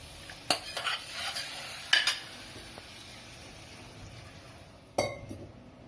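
A spoon scrapes and clinks against a pot of pakoda kadhi in a few sharp strokes, with quieter stirring between them, close and fairly soft.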